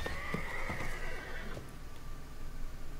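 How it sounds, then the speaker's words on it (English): A horse in a video game gives a faint whinny lasting about a second and a half, with a few soft hoof-like clops under it, then fades to a low background hum. "That was a horse."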